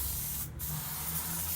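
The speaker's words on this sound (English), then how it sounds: "I got some spray grease here" Spray grease hissing from an aerosol can onto an aluminum wheel rim, one steady close spray lasting under two seconds with a brief dip partway through.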